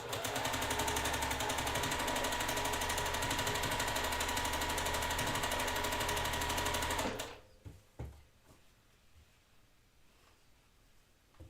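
A sewing machine sews quilt block rows together, a loud, steady, close stitching rattle for about seven seconds, then stops, leaving soft rustling of fabric.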